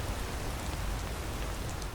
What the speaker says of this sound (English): We are going to make our way to Whiterun in the rain.